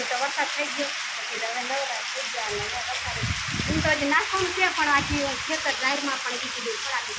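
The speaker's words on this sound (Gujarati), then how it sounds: "વરસાદ થઈ ગયો આજ" Steady broadband hiss of rain falling throughout, with voices talking over it in the middle stretch.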